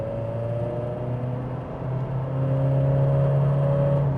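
A 2025 Acura ADX A-Spec pulls under throttle with a moderate engine hum that drops briefly, then rises and grows louder as the SUV accelerates.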